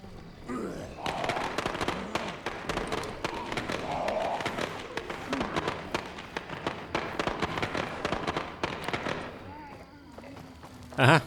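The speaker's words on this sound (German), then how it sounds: "Bölleralarm." Firecrackers going off in the video game State of Decay: a dense, continuous crackle of rapid pops and bangs lasting several seconds, loud and close, with someone talking over parts of it.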